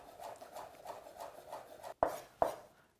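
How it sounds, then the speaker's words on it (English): Fresh basil chopped roughly with a knife on a board, a soft steady rhythm of light cuts followed by two sharper, louder knocks near the end. "I've got some fresh basil, and I'm just going to chop them very roughly"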